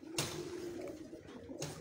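Pigeons coo softly on a rooftop at Ustad Maqsood's house, low, throaty calls behind a hissing background, with a couple of brief sharp knocks near the start and end.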